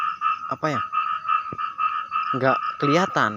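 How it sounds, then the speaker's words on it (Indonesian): A frog croaks repeatedly and loudly close by during a fishing trip, in a steady pulsing rhythm, while someone speaks quietly over it. "saya penasaran dengan katak yang berbunyi ini nih"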